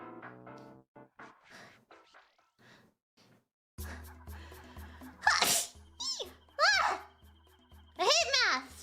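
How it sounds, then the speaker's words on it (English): A child sneezes sharply and loudly amid bursts of her own speech and little vocal noises, the sneeze standing out as a sudden explosive burst. "I need to sneeze."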